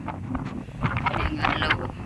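Gusty wind buffets the microphone with a rumbling roar, rising and falling in bursts throughout.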